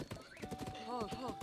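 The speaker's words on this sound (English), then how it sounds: "Yes, pet the horse." A horse being petted in Zelda: Breath of the Wild gives soft snorts and a short rising whinny over hoof clops, with a voice talking over the sounds.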